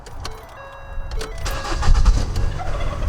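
A car engine cranks and catches after being switched off, settling into a steady idle with a low rumble that grows louder toward the end; no one speaks over it.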